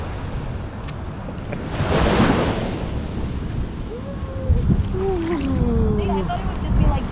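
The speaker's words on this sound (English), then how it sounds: "Sometimes there are gentle waves, sometimes there are just, aggressive waves." Ocean waves break and wash up on a Malibu beach, a broad roar that swells and recedes while people talk nearby over the surf.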